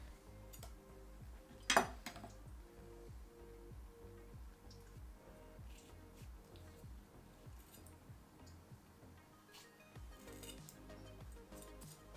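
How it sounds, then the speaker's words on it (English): Knife and small spoon scooping seeds and liquid from tomato halves into a bowl: faint, soft scraping clicks and light squishes repeating at a steady rhythm, with one sharper clink of metal, close and quiet. "Use a knife and/or small spoon to scoop out the guts of the tomatoes into a bowl"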